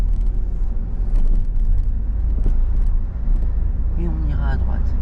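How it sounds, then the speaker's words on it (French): A car accelerating gently during a driving lesson at traffic lights, a low steady engine rumble and road noise inside the cabin, with a voice talking over it. "accélère tranquillement"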